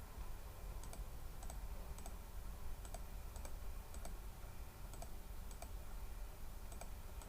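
A computer mouse clicks in a steady, evenly spaced series of sharp, faint taps over a low background hum.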